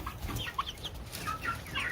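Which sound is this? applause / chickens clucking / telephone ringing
chickens clucking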